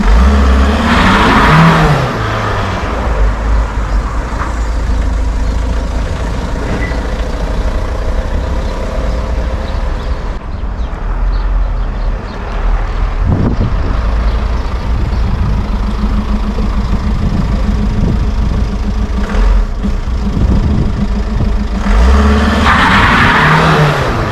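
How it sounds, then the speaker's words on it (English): A Volkswagen Golf Mk5 with a dogbone engine mount insert drives on the road, giving steady engine and tyre roar with a few swells in revs throughout, and no talking. "I'm gonna take it for a drive, see how the insert actually affects the car."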